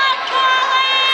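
Crowd at a high school basketball game during a tense late free throw, a dense steady roar of many voices and cheering, loud and close throughout.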